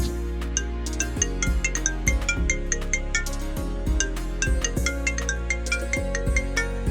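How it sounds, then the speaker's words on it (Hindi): A melodic electronic ringtone plays loudly and continuously, a repeating chiming tune with steady rhythm, no voices. "तभी उसका फोन बजने लगता है।"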